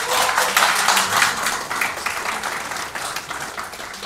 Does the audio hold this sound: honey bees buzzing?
no